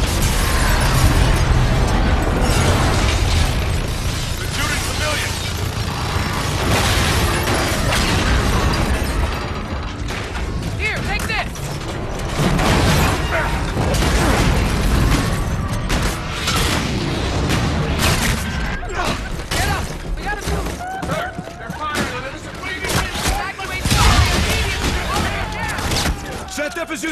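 In Call of Duty: Infinite Warfare, Aegis guns pound away at an enemy fleet amid a steady, rumbling barrage of blasts and bursts, with voices talking over the constant din of battle.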